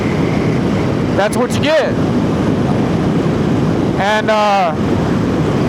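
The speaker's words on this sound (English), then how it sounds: "this is going to be way too windy" Wind buffets an outdoor microphone as a steady loud rumble that runs throughout, with someone talking briefly over it.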